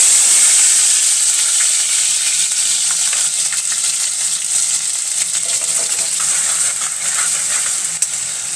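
Crushed garlic and green chilli hit hot oil in a pan, producing a loud, continuous hissing sizzle with crackling pops close by, steady throughout with no voices.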